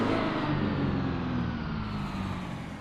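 A heavy truck engine idles with a surging quality in the American Truck Simulator game, producing a loud, steady low rumble that fades only slightly, with no voices.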